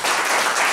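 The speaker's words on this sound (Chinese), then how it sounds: "我们先掌声谢谢建宏老师。" An audience applauds after a speaker's talk at a pension panel discussion, a dense, steady burst of clapping heard briefly and close.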